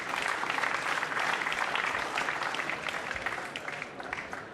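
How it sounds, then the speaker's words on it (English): Crowd at a 2006 World Pool Championship match applauding a safety shot, dense sustained clapping filling the hall at steady strength and easing slightly toward the end. "Got to give it to this crowd, Jerry."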